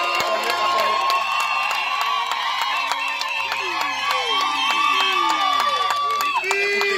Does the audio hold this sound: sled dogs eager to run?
no